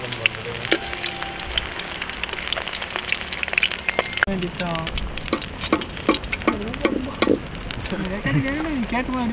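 Continuous crackling sizzle of fish frying in hot oil, with bursts of popping and spitting, heard close up while a voice murmurs faintly in the background.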